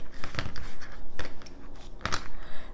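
A rotary cutter trimming fabric for a half square triangle, giving short crisp slicing and crinkling strokes in a few quick bursts, close and fairly quiet.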